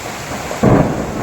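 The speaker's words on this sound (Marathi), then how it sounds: "वारं आणि विजा कडकडलेलं आहे" Thunder cracks once, close and loud, during heavy rain in Pune, bursting suddenly over a steady background of pouring rain.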